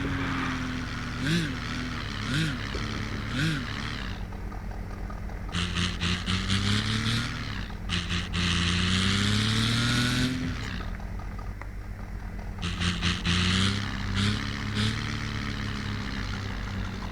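A car's engine in the video game Car Parking Multiplayer hums and revs as it drives and parks, its pitch rising and falling in several bursts with no talking.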